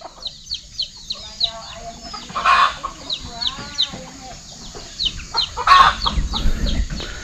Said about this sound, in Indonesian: Ada suara anak ayam.